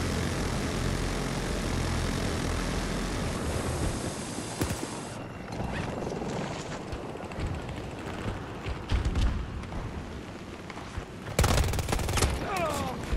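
Rapid gunfire in Battlefield 2042 during a Breakthrough match, dense bursts layered over a constant roar of aircraft engines and battlefield noise, with a louder crackling volley near the end.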